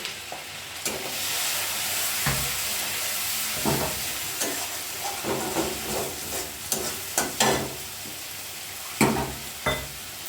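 Dried red chillies drop into a pan of frying ground spice paste of ginger, cumin, garlic, onion and green chilli for a bottle gourd and prawn dish, giving a loud, close, continuous sizzle with scattered stirring knocks and scrapes, no voices.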